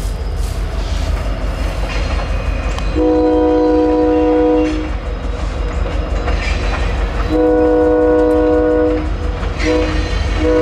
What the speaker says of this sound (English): A Knoxville Locomotive Works SE32C, former BNSF Executive